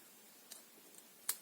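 Scissors snip through card in a couple of faint, crisp clicks close by, set against near silence.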